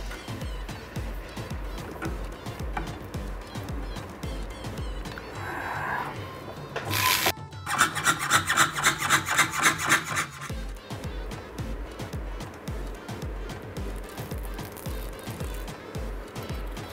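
A jeweller drills a hole through a metal plate with a small hand tool, giving a continuous rubbing, rasping buzz that swells into a louder grinding burst midway before settling back to steady scraping.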